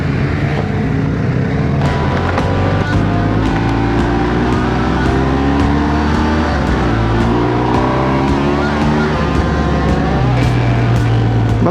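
A motorcycle engine with a large windscreen drones continuously at close range, its pitch rising and falling as it shifts and accelerates along the road, with steady wind and road noise.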